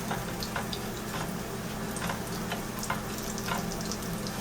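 Breaded fish fillet frying in a pan with only a little oil, giving a steady soft sizzle with scattered small crackles and pops throughout.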